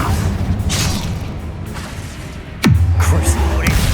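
A Confringo fire spell in Hogwarts Legacy bursts with a sudden booming impact partway through, followed by a low rumbling tail under combat noise and a spoken voice.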